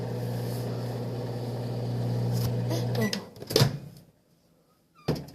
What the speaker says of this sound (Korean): 전자레인지 15초를